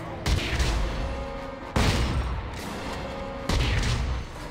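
Gunfire in the video game Dead Space 3 during co-op play: three loud booming shots spaced roughly 1.5 seconds apart, each with a long echoing tail over a steady rumbling background.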